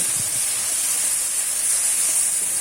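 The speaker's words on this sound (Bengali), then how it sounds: "অল্প একটু জল দিয়ে ভেন্ডির সঙ্গে মশলাটা কষিয়ে নিচ্ছি" Okra sautéing in a pan with spice paste and a little water, giving a steady, bright, close sizzling hiss that holds level from start to finish.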